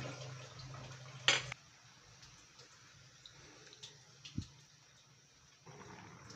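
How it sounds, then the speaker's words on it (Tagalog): Half a glass of water is poured into a cooking pot of chicken kaldereta with carrots and potatoes, making a brief splash in an otherwise quiet kitchen. "lagyan natin ng kalahating basong tubig"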